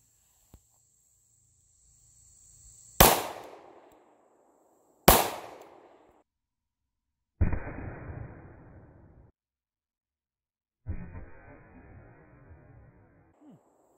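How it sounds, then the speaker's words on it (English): Glock 21 pistol in .45 ACP fired at a bulletproof vest: two sharp, loud shots a couple of seconds apart, each ringing out briefly, followed by two softer, longer muffled bursts of noise in an otherwise quiet outdoor setting. "and two shots with the 45 ACP."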